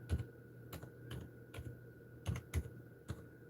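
Typing on a computer keyboard in an office setting: a quiet, close series of irregular key clicks in small clusters, with no voices.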